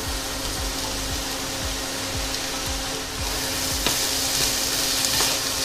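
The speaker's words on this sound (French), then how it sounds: "je mélange bien pour l'enrober de matière grasse" Rinsed rice is stirred in hot fat in a cooking pot, giving a steady close sizzle with repeated scraping strokes of the spoon. No one talks over it.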